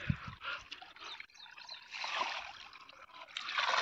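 Water gushes steadily from a 2 HP AC solar-powered submersible pump outlet, a continuous broadband splashing rush that swells louder toward the end, heard outdoors without talk.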